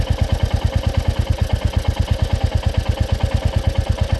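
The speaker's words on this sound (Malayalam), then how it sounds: "ഇതാ നോക്കിക്കോളൂ, എൻജിൻ നോയ്സ് കേട്ടോ." A Royal Enfield Bullet 350 engine idling up close, a loud, steady, rapid thumping beat with a mechanical clatter layered over it, heard alone without voices.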